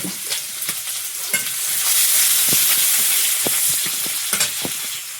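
Chopped onion frying with nigella seeds in hot oil in a wok, a steady loud sizzle with scattered clicks of stirring and crackling throughout.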